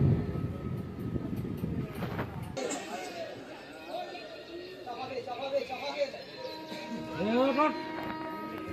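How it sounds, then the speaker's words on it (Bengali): A train departs a station, rumbling along with a rattling carriage clatter, while people chatter and talk nearby over the rolling noise. "তো আমাদের এখন ট্রেনটা বাগিলাতে ছেড়ে দিয়েছে"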